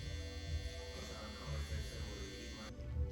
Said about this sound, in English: Now for the final step, I come with our shaver and then just smoothing out the haircut